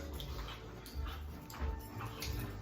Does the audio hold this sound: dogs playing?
yes